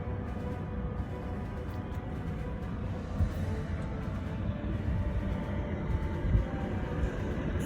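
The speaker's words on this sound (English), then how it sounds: "We got noise on one side from them and noise on the other side from the railroad." A train rolls along a nearby railroad with a steady, loud broadband rumble that holds throughout, with no talking.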